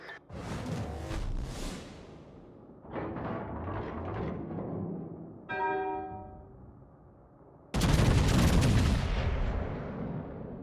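Battleship main guns fire in the naval video game World of Warships, heavy booming salvos rolling out one after another, the last blast loudest and followed by a long roar.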